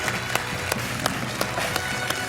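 A single person claps slowly and steadily for the new champion on the French TV quiz show Questions pour un champion, with evenly spaced claps over a soft studio background.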